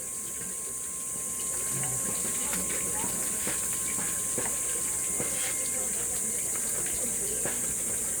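Water running steadily at a hot spring, a constant hiss and splash like a flowing tap, with faint voices talking in the background.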